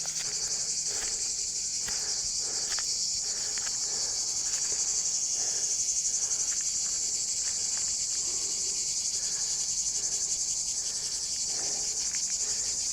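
Cicadas sing in an olive tree on a hot afternoon at about 35 °C, a loud, steady, continuous buzzing drone that fills the whole stretch with no pauses and no voices.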